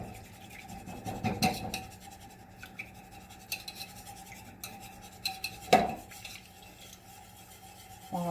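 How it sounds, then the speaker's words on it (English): A whisk scrapes and clinks against a pot while stirring elderberry syrup, faint and intermittent, with a couple of louder metallic knocks over a low steady background hum. "So I'm going to stir it with the whisk."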